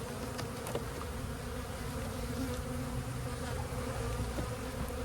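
Honey bees buzz steadily and densely at an open beehive during an inspection, a close, continuous drone with no voices.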